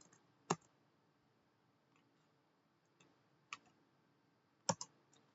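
Scattered, faint clicks of keys are pressed on a computer keyboard while a Linux command is typed, a few isolated taps spread across a quiet room.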